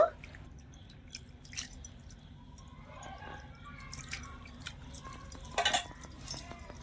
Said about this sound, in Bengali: আর একটু ওপর থেকে জল দিয়ে ছানাটাকে একটু ভালো করে ধুয়ে নেব